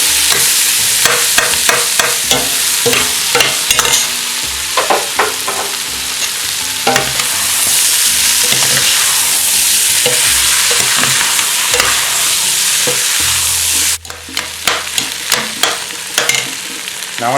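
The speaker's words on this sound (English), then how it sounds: "now we're going to just brown up the onions nice. And we'll add this meat back in." Onions and venison brown in a pan for goulash, giving a loud, continuous sizzle broken by repeated scraping stirs. Near the end the frying drops to a quieter hiss with a few sharp clinks.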